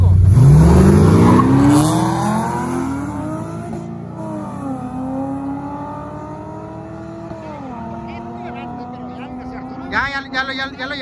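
Ford Mustang accelerating hard off the line in a drag race, engine rising through gears as it pulls away into the distance, with excited voices shouting over it.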